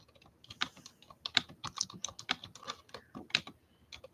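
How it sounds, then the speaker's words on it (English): Typing on a computer keyboard, a steady run of close, irregular key clicks with varied loudness and no voices. "Let me type something."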